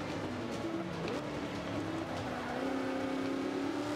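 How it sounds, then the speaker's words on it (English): A Camaro muscle car's engine drones and shifts pitch while racing in Forza Motorsport 5, a steady loud motor hum with rising and falling tones throughout. "We're going by this Camaro."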